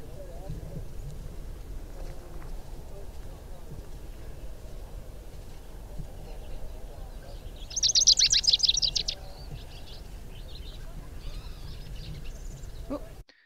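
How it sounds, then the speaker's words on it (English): A rufous-crowned sparrow in the Chihuahuan Desert in winter gives a short, bright, rapid trill lasting about a second, at moderate distance over steady outdoor background noise. "So here is the rufous crown sparrow song."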